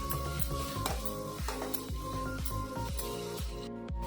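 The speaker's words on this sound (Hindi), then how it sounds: "अब हम इसमें लहसुन का पेस्ट डाल देंगे, अदरक का पेस्ट। इनको भी हम 2 मिनट तक चलाते हुए भून लेंगे।" Garlic and ginger paste frying in a pan as it is stirred, a steady sizzle under a rhythmic series of scraping strokes from the spoon, close and fairly loud.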